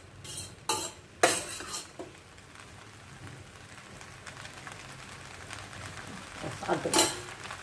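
Fried rice being stirred in a pan, with a few clattering scrapes of a utensil at the start and again near the end over a soft, low background.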